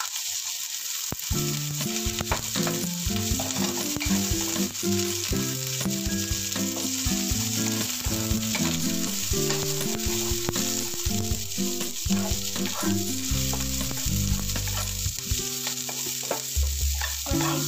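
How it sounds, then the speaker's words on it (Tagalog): Water bamboo sautéed in a pan for ginisang water bamboo, loud continuous sizzling with a spatula stirring and clattering against the pan in uneven bursts, close and without talk. "ilagay na natin ang ating water bamboo. Gisa lang."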